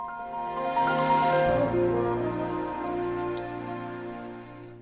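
A Windows 2000 system sound plays inside a virtual machine: a layered, chime-like synthesized chord that swells, shifts through a few sustained tones and slowly fades, heard clearly with no talking.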